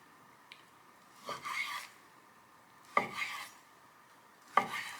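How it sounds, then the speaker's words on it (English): A knife saws through smoked pork belly, cutting it into chunks for burnt ends: three raspy, scraping strokes, each a short burst of rough friction, close up with quiet pauses between. "And just cut them into chunks"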